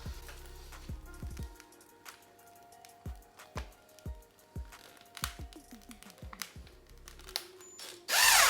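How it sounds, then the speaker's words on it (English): A power drill drives screws into the corners of a flat pack reptile enclosure during assembly, heard as several short, close whirring bursts separated by pauses, ending in a louder sustained burst. "we're going to screw in the diagonally opposing corners first"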